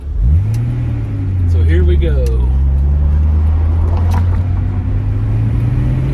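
A 1983 Datsun 280ZX GL coupe with a five-speed manual is driven with its T-tops removed; the engine pulls away and climbs in pitch, then holds a steady drone, while someone talks briefly over it.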